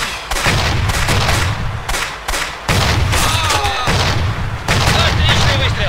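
Heavy gunfire and booming cannon blasts in the video game Blitzkrieg 2, Battle of Berlin, pound almost continuously, with bursts of rapid shots and explosive thuds layered together at close range.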